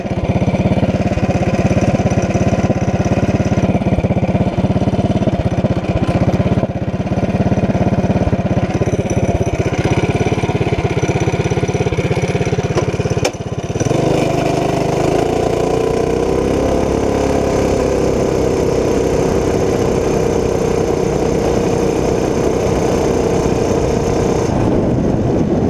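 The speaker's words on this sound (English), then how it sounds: "0-30, full governor delete, billet rod and flywheel, Tillotson 212, test one." A Tillotson 212 small engine with the governor deleted and a billet rod and flywheel runs a 0-30 test on a CT200u-EX minibike build. It drones loudly, cuts briefly midway, then revs into a high steady pitch, with no talk.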